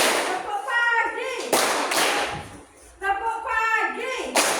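Children in a classroom clap in rhythm during a clapping game. Sharp bursts of claps alternate with sung or chanted voices, and the chanting runs through most of the clip.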